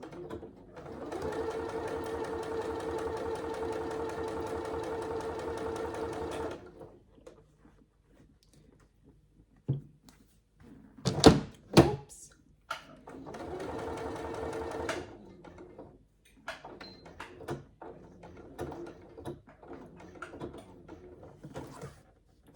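A sewing machine stitches a saddle bag in two steady bursts of continuous running, separated by quieter handling and a few sharp clicks and thumps as the fabric is repositioned and back stitched.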